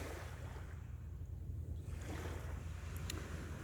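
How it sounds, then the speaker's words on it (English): Ocean waves wash in a steady low rumble of surf with wind noise buffeting the microphone, faint and distant, with no voices. "I'm just relaxing, listening to the waves"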